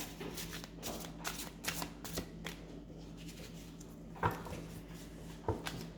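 A deck of cards is shuffled close up, with quick riffling bursts and soft slaps of cards settling, quiet with light background hum and no talking.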